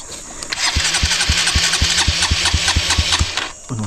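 An engine cranks and catches, then settles into a fast, even putter of firing pulses, close and loud, before cutting back near the end; voices are faint underneath.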